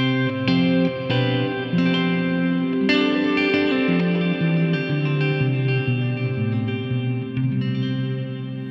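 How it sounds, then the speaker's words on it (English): Long reverb on a music mix: effect-heavy guitar-like chords and notes blend into a dense, continuous wash, their long tails smearing together over several seconds without any voices. "a long reverb."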